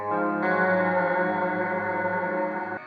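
A guitar played through a reverb pedal, sustaining a thick, shimmering wash of chorus-like reverb with dense layered overtones that holds steadily, then cuts off abruptly at the end.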